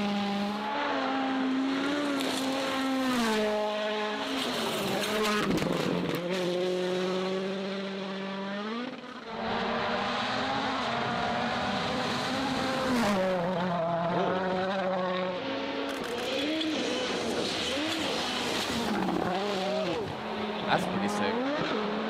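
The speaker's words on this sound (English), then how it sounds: "That car going through the forest like an angry goat." A rally car driven flat out through a forest, its engine loud and close, revving hard with rising and falling gear changes and brief drops between shifts, carrying through the whole stretch.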